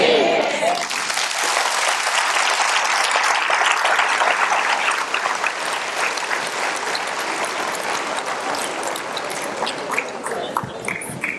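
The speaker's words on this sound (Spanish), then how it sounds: "Ese fue el segundo aplauso." A live audience applauds at a religious talk event in Denver, a dense, steady clatter of many hands clapping close and loud for about ten seconds before thinning slightly near the end.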